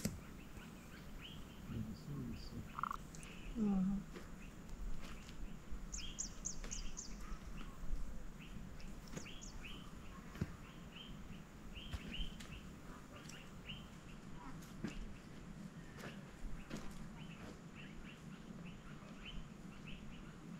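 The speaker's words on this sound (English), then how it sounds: "The woods close to this space also attract a variety of bird species" Birds sing in woods in rural Zimbabwe: several species give scattered chirps and trills at a moderate distance over a steady low outdoor hum. A few lower calls break through now and then.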